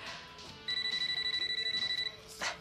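A telephone rings indoors with a rapid electronic trill lasting about a second and a half, clear and moderately close, with faint room noise around it.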